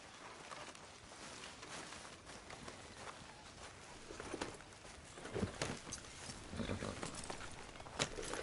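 Horse hooves clopping in Red Dead Redemption 2, a quiet, uneven run of footfalls growing slightly louder over a soft outdoor ambience near the beach, with occasional birds.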